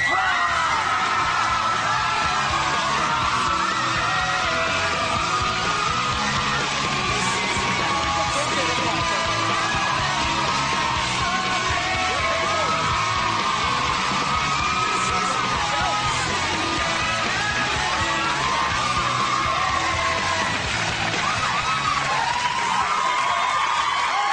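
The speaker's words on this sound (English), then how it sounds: "Start your screaming now for Zac Efron!" A studio audience at a television talk show screams, yells and cheers for Zac Efron, a loud, continuous roar of many voices that stays dense and undiminished from start to finish.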